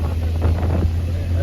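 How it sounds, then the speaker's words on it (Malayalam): Wind rushes steadily through a lowered car window during a family road trip in Idukki, a continuous buffeting roar with a deep low rumble that runs the whole moment without any talking. "ഞങ്ങളിങ്ങനെ ഗ്ലാസ് ഒക്കെ താത്തിട്ടിങ്ങനെ ഇസാനെ കാറ്റ് കൊള്ളിപ്പിക്കുക."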